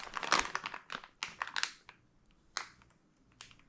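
Plastic zipper bag crinkling and crunching up close as air is forced out, in several bursts of crackly rustling that trail off into quieter handling.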